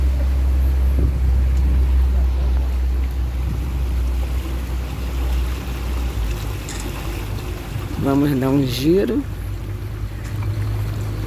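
A ferry boat crossing Araruama lagoon in Rio de Janeiro, heard as a steady low engine drone and wind-blown water noise throughout, with people talking nearby and a brief rising whine near the end.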